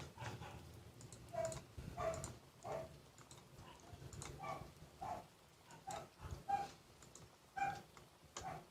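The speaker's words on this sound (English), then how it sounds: "My dogs are being loud asses right now." Dogs bark and yelp repeatedly in short bursts, somewhat distant and muffled, alongside soft clicking sounds.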